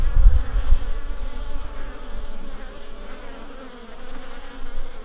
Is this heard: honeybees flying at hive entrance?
yes